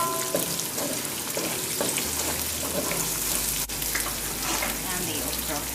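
Onion frying in oil, a steady sizzling hiss with occasional crackles and a few stirring clinks, close and moderately loud throughout with no talking.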